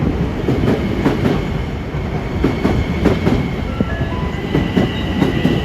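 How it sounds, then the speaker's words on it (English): An LIRR train rolls into Woodside station during the evening rush, its wheels beating a steady clickety-clack over a loud rumbling drone, with faint brake squeals near the end. "The 453 train to Port Washington is now arriving on track 2"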